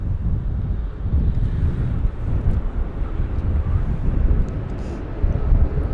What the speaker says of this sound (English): Nose right the way up for the A320 from Barcelona.